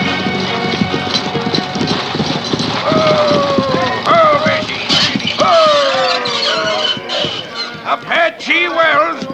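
Horses pull a stagecoach in a radio drama, hooves clip-clopping in a brisk rhythm. Occasional whinnies and squeals cut in, and voices talk over the hoofbeats.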